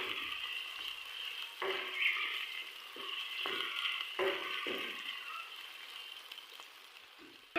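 Onions frying in hot ghee for aloo matar gajar, a close, steady sizzle broken by several sharp stirring scrapes and crackles.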